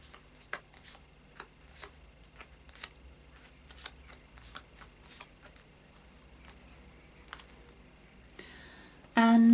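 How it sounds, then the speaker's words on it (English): Lightseers Tarot cards are shuffled in a quiet room, a series of crisp riffling bursts and soft snaps spaced irregularly, close and fairly faint, ending with a sudden louder noise. "we'll just do a final shuffle of the Lightseers Tarot to lay on top"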